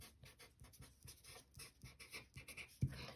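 Pen scratching across the back of photos as a place name is written, a quiet close run of short strokes with a soft tap near the end.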